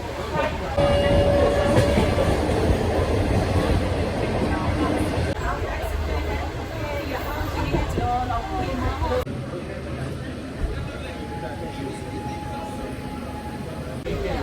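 A slow green train in a small mountainous Chinese county rumbles along the rails with a steady low roar and faint rattling, continuous throughout, with voices talking over it.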